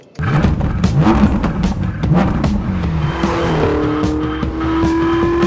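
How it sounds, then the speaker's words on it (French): Ferrari 488 GTB with a 670-horsepower engine accelerating hard, loud and close, with rising revs, gear changes and a sustained high-pitched engine whine building toward the end. "Nous voilà dans la 488 GTB."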